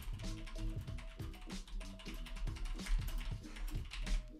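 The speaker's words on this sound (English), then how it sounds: "type something that you know you can type fast" Rapid, dense keystrokes on a computer keyboard that the typist calls not their good one, clattering continuously and fairly close for several seconds with no pauses.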